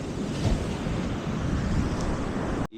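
Ocean surf rolling and breaking in a continuous loud roar on a Zambales beach, with wind buffeting the microphone, cutting off abruptly at the end.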